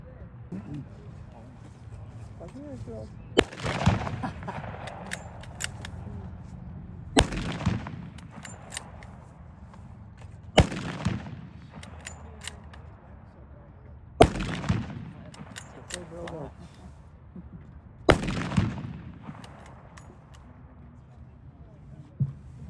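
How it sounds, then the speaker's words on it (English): Five loud gunshots from an 8mm Mauser bolt-action rifle ring out outdoors at a Civil War show, spaced roughly three to four seconds apart, each sharp crack trailing into a short echo over faint background voices and crowd noise. "So we're going to go ahead and load it up and take a few shots."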